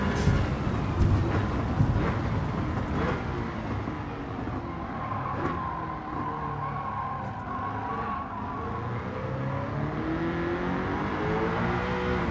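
An Audi R8 4.2 races a lap in Gran Turismo, its engine note droning steadily at close range, with tonal sweeps rising and falling as it shifts gears and holds high revs throughout.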